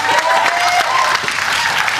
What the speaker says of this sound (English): I think that deserves a round of applause for the superfan.